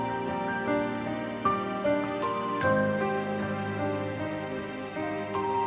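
A gentle instrumental beat with piano notes over sustained strings, with melodic accents plucked out at a relaxed pace.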